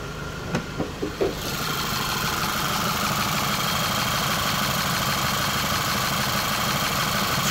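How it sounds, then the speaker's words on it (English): 2013 Volkswagen Beetle with a 2.0 turbo engine idling under an open hood, a steady, even hum after a few brief clicks at the start. "Let you listen to the engine."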